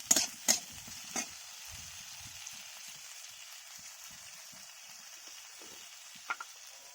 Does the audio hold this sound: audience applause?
no